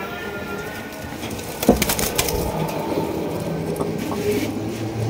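A big oversize red pigeon cooing amid a crowded pigeon market, low soft calls under scattered wooden knocks and clatter, with faint background activity and no clear talk.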